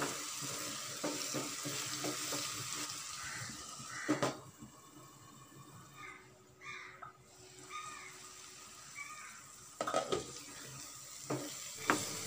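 Prawn masala cooks gently in a covered pan over a low flame, giving a faint, steady sizzle. A few soft clinks and bumps break in now and then, and no one speaks.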